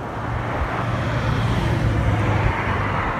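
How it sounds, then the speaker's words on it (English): Highway traffic passing near Walker Lake, a continuous low roar of vehicles with a steady engine hum swelling and fading over a few seconds. "there's a highway right behind me. So you can hear the traffic"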